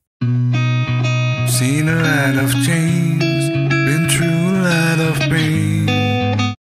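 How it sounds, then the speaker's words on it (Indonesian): A mastered song recording: loud, dense music with vocals and full instrumentation plays back at a consistently high, compressed level, starting and stopping abruptly. "ini adalah suara yang sudah dimastering"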